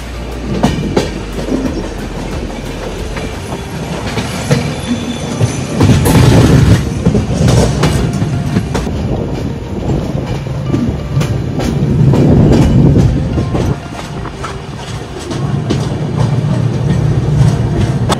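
Humsafar Express train running on rails near Krishnarajapuram, Bengaluru, heard from on board: a loud continuous rumble with rhythmic clickety-clack wheel beats and swelling surges, with no talk.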